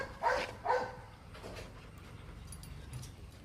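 A female Labrador, mother of a litter of puppies, gives two short barks or yips close by, followed by fainter whimpering sounds in a quiet room.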